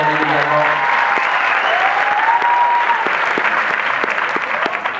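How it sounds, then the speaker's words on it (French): A cinema audience at a film premiere applauds steadily for several seconds, with dense sustained clapping from the crowd over a brief spoken line. "On peut applaudir David également."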